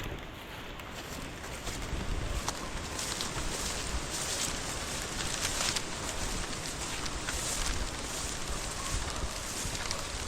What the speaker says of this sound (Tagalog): Yan ang hangin.